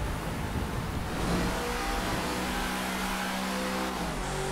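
A truck engine revs in a Grand Theft Auto game as the truck climbs toward Mt. Chiliad, a steady loud drone with rising and shifting tones, heard alone and close.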